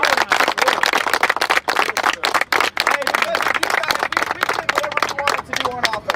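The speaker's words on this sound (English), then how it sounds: "Everybody clap it yes, up" A football team claps loudly together for its offensive linemen in a locker room after a Titans vs Falcons game, dense sharp hand claps running throughout with shouting voices and chatter mixed in.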